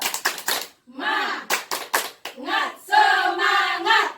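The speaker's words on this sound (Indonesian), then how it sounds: "Tepuk semangat." A group of women at a family capacity-building meeting perform the rhythmic spirit clap, sharp hand claps in patterned quick bursts alternating with voices chanting along in unison.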